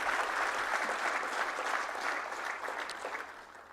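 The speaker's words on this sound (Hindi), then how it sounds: "एक बार अदित्रा मन्ना के लिए जोरदार तालियां।" Sustained audience applause fills a bravery medal award ceremony, a dense, steady wash of many hands clapping at even loudness from start to finish.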